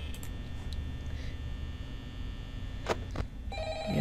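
An old phone rings in the Five Nights at Freddy's horror game, a faint ringing over a low electrical hum with a couple of brief clicks.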